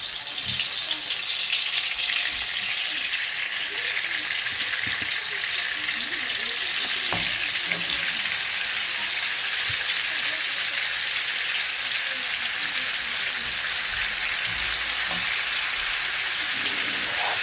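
Meat fries in hot oil with a loud, continuous crackling sizzle that stays steady throughout, with occasional stirring clatter and faint voices in the background.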